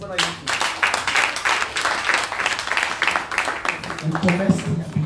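Congregation at a church service clapping and cheering in praise of Jesus: dense, loud, continuous applause with bursts of voices throughout, and a voice rising near the end.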